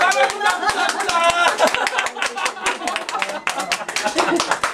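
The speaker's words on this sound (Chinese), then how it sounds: "时间到，来，掌声鼓掌，鼓掌" An audience claps in sharp, irregular bursts throughout, mixed with several people talking loudly over the applause in a room.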